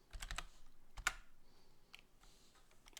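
A few quiet clicky keystrokes on a computer keyboard, short separate taps with gaps between them, faint and close in a quiet room.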